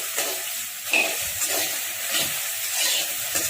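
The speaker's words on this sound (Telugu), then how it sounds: "ఆయిల్ వేయకుండా కడాయిలో ఇలా బెండకాయలు వేసి ఈ విధంగా వేసి 5 నిమిషాల పాటు కలుపుకోవాలి" Okra being stirred in a dry kadai with no oil: a steady, close hiss of roasting with soft scraping strokes repeating about every half second, and no voices.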